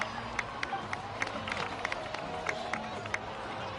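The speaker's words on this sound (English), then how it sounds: "please give another round of applause for them" Scattered clapping and a murmuring crowd in the video game Genshin Impact, with sharp individual claps popping over a steady background din.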